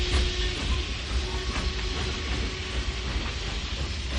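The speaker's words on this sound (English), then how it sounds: "He watched the silvery train until it was completely out of sight." A departing train rumbles steadily along the rails with faint clickety-clack and hiss, a continuous loud wash of noise with no voices.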